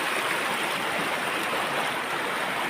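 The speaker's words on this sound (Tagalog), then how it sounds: "Napakalakas po ng tubig po dito." Strong stream of clean water rushing loudly and steadily, a continuous close roar of flowing current with no voices.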